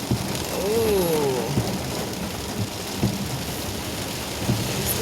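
Torrential rain heard from inside a car, a dense constant hiss of heavy rain drumming on the body, with a low rumble and occasional knocks, close and steady.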